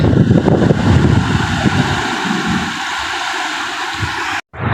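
The Sani river in flood after heavy rain near Juvangadh village, Khambhalia, Devbhumi Dwarka, rushes past as a loud, steady roar of flowing water with wind buffeting the microphone.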